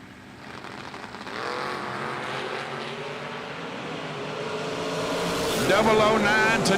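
Two-seater drag racing cars, one a Cuda, roar down the strip with a rising engine drone that builds louder toward the end, under continuous commentator talk.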